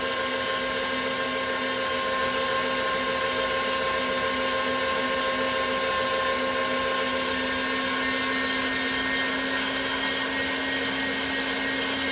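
An electric sausage stuffer drives ground venison into small casings, giving a loud, steady motor hum with a constant whine that runs unbroken throughout.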